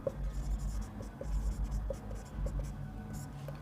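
A pen scratches across paper as a maths problem is worked out by hand, with soft irregular strokes close by against a low background rumble.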